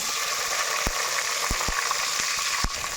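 Sliced onions for prawn biryani frying in hot oil, a steady close hiss of sizzling with a few sharp crackles and pops scattered through, no voices.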